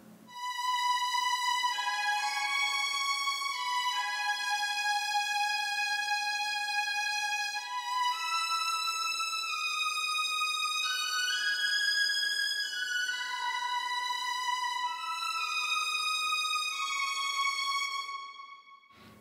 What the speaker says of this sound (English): So I think you can hear the reverb making that little difference